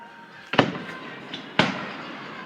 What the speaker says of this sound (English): How many fireworks are over there?